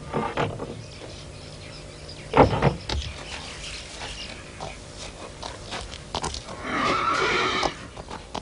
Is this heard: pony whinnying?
yes